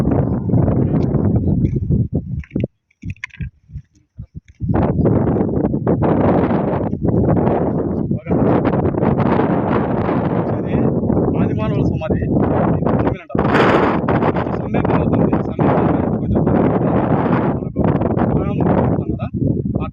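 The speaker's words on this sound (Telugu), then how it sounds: "ఇక్కడ మాకు వచ్చేసి చాలా గాలి వస్తుంది" Loud, constant wind roars and buffets the microphone almost throughout at an ancient dolmen burial site near Sambepalli, with a brief quieter gap early on, and a voice speaks under it.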